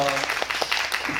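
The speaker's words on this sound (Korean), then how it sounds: "여러분 박수 한번 주세요." A studio audience at a variety show reunion stage gives a short burst of applause, brief and fairly steady, with voices mixed in.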